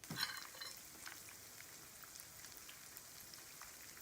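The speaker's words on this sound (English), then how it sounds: "I love the smell of things that are frying." Breaded mushrooms fry in oil in a sauté pan with a soft, continuous sizzle and faint crackle, quiet and steady throughout with no talking.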